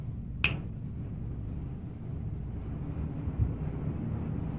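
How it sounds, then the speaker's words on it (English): A single sharp finger snap from a hypnotist near the start, then quiet room noise with a low hum underneath. "So when I snap my fingers, you will have that vision."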